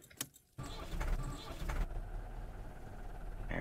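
A tractor engine in My Summer Car rises to a steady, louder drone as the hand throttle is pushed up, with a brief rattle and click before the engine note takes over.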